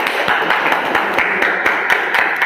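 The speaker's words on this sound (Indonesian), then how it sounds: "tepuk tangan untuk kelompok 2" A classroom audience applauds a student group after its presentation, a steady dense wash of many hands clapping for a couple of seconds with no talk over it.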